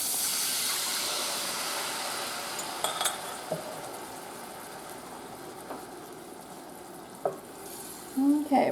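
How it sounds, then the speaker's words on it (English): Sauce stirred into General Tso's chicken in a hot pan, a steady loud sizzle and hiss with occasional clinks of a utensil against the pan, rising into a sharper burst of sizzling at the end. "Then we are going to stir in our sauce."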